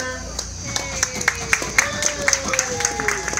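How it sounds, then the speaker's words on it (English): Scattered hand claps from a small outdoor audience at a heritage railway train robbery reenactment, sharp and fairly close, while someone speaks and a few others call out. "Ladies and gentlemen, a round of applause to Greg as Bill Miner."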